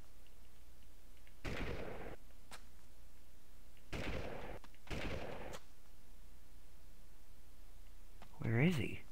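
Machine gun fire in the PlayStation game Army Men 3D sounds as three short, sharp bursts spaced a couple of seconds apart over quiet background, with a brief voice near the end.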